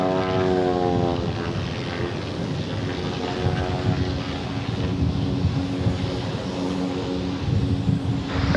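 An aircraft at DFW Airport gives a sustained droning engine roar with a steady tonal hum, moderately loud and slightly distant, holding evenly throughout.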